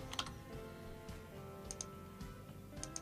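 Quiet, sparse keystrokes tap on a computer keyboard in short bursts over a faint steady background hum.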